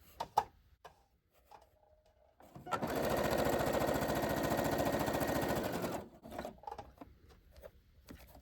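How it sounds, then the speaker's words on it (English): A Brother CS7205 sewing machine runs a straight stitch in a steady, even whir for about three seconds. Soft clicks and handling noises come before and after, and nobody speaks. "We're on stitch 0, 0, so straight stitch with needle in left hand position."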